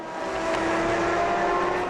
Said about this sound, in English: Into the pits comes the 83 Kessel Racing car.